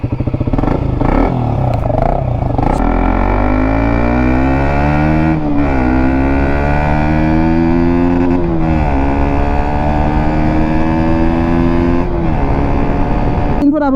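An RC125 BS4 motorcycle engine runs loud and close, its pitch climbing and dropping through several revs over a steady buzzing idle.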